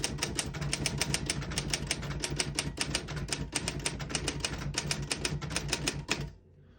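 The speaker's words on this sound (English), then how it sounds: "I'll type that sentence on the next line." A 1958 Royal FPE manual desktop typewriter types a line, with a fast, even run of sharp key strikes at close range that stops abruptly near the end.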